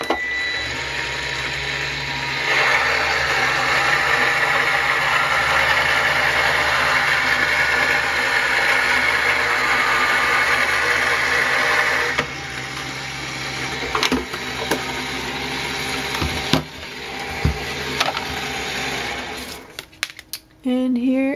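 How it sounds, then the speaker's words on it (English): Die-cut embossing machine cranking a swirly heart embossing folder through its platform, a steady mechanical whir for about ten seconds, then quieter clicks, knocks and handling noises close by. "put it under platform A, and feed it into my machine"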